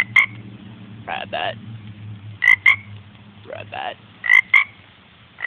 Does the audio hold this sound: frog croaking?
yes